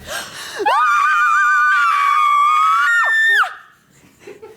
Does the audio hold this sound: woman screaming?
yes